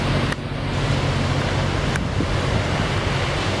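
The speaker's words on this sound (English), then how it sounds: "And look where we are. We're right here at the ocean." Ocean waves wash ashore on a Japanese coast, a steady, loud roar of surf mixed with wind rumble, continuous for several seconds with a couple of faint clicks and no speech.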